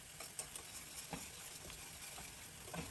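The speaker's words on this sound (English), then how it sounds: "make sure that you're still stirring your sauce" Cream cheese sauce stirred in a pan for chicken enchiladas, a soft continuous scraping and gentle sizzle with faint clicks of the spoon against the pan, steady and close.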